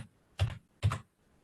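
A registry number typed on a computer keyboard: two crisp, close keystrokes about half a second apart in a quiet room.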